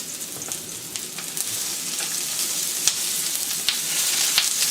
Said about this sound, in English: So just give that a quick stir fry.